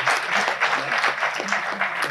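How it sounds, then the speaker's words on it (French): Audience applause at a university integration day for new baccalaureate holders, honouring a man named Ali, with dense clapping in a few rhythmic surges over a low murmur of voices. "On voudrait alors que vous applaudissiez à 3 reprises Ali."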